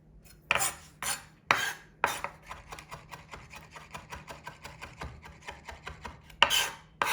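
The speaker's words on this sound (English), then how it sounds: "We're then just going to go ahead and give it a quick chop. I'm slicing it like so" A knife chops through cauliflower on a board: several loud crisp cuts, then a quick run of lighter rhythmic slicing taps, ending with a couple more firm chops, close and without talk.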